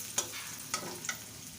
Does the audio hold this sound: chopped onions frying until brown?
yes